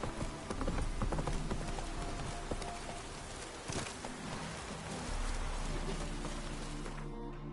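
Horse hooves clip-clop steadily on the ground as Roach, Geralt's horse in The Witcher video game, moves along, with rain-like pattering around the close, continuous footfalls.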